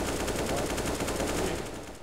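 Dense, continuous gunfire from the video game Counter-Strike: Global Offensive, loud and rapid with no clear gaps, fading slightly at the very end.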